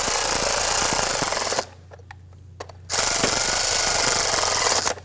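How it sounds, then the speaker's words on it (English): A tool tightens the valve cover bolts on a 2017-2020 Hyundai Elantra engine. It makes a loud, harsh mechanical whir in two sustained bursts with a short near-silent pause between them. "let's go ahead and snug them down. Just bottom out the bolts here."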